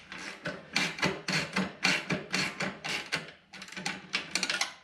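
Carriage bolts with nylock nuts and washers fastening an engine to a mounting plate on a track sled build, heard as a close series of quick, rhythmic rasping ratchet-like strokes with brief pauses between.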